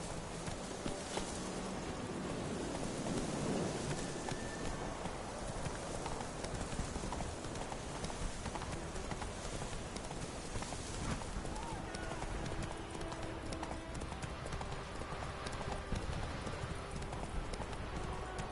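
Steady clip-clop of horse hooves in The Witcher 3 runs throughout under game music and a talking voice, a continuous rhythmic trotting close by.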